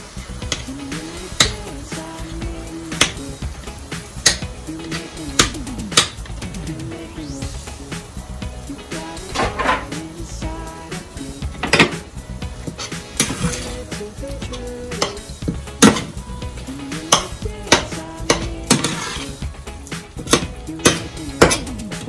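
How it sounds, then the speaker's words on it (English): Corned beef going into a hot pan while cooking corned beef patties, with steady sizzling frying and repeated metal utensil clinks and scrapes against the pan throughout, over a background music bed. "now I'm going to add the corned beef inside."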